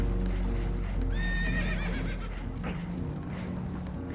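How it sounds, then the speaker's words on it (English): A horse whinnies loudly in Red Dead Redemption 2, spooked, over a low rumbling background, with hooves clip-clopping and other horses shifting nearby. "Horses are spooked"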